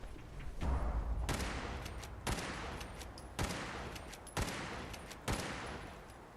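AK rifle fire in an island treasure-hunting video game: an opening burst, then a series of loud, evenly spaced single shots, each with a long echoing tail fading before the next.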